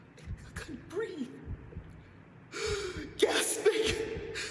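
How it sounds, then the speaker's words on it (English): A person gasps for air several times in a dramatic spoken performance, sharp breathy intakes and strained breaths close up, growing louder and more desperate toward the end. "gasping and gasping for air."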